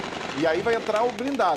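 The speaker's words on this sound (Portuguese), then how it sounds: "Esse barulho que vocês estão escutando de tiro rajada" Automatic gunfire in rapid bursts echoes during a police armoured vehicle operation against traffickers in Senador Camará, a favela in Rio de Janeiro, heard beneath someone speaking Portuguese close to the microphone.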